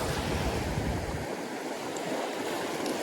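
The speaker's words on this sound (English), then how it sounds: "there's these small little waves that crash and they stop crashing because it's a deeper section" Small ocean waves break on a New Jersey beach during a thunderstorm, a continuous broad hiss of surf with a low rumbling wash that fades after the first second into steady, fainter sea noise.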